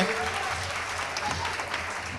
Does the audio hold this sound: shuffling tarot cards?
no